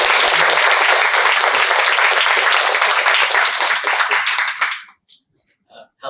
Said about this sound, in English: can you give a warm round of applause to welcome Andy to the stage